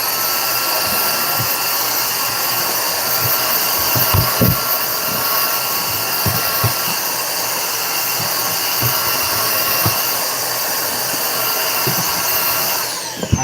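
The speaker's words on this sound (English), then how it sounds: "There's my vacuum." A workbench vacuum cleaner runs steadily and loudly at a hobby soldering station, its constant motor whine broken by occasional knocks and clicks of handling.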